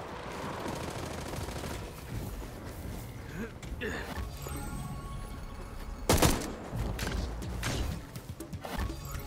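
Grenades thrown and bursting during a Hawked match, a string of loud explosive booms and rapid gunfire-like crackle over steady game noise, sharpest blast around the middle, with players talking throughout.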